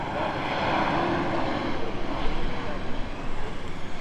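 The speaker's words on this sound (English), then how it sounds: "We have an American 737 just arriving." An American Airlines Boeing 737 arrives at Tampa International Airport, a broad, steady jet roar that swells slightly and stays fairly loud throughout the few seconds.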